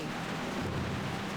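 Steady rain pours down in World of Warcraft: Mists of Pandaria, a dense, even wash of droplets with a low rumble beneath, continuous and close, with no voices over it.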